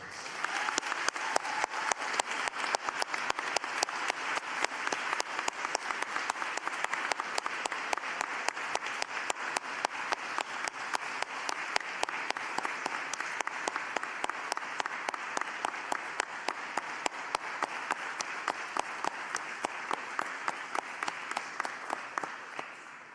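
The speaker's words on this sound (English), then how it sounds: "Class of 2020, please give your professors, including those who are not present, a well-deserved round of applause" A graduation ceremony audience at RIT Croatia's Zagreb campus gives the professors a long, sustained round of applause, dense and even throughout, heard from within the hall.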